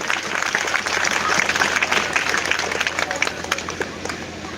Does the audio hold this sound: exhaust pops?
no